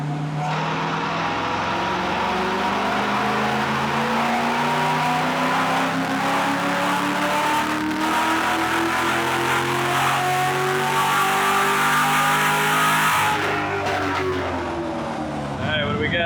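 An LS-swapped widebody Porsche 911 V8 engine revving hard on a dyno, rising in a long sustained climb to a peak before dropping off, loud and close with continuous roar.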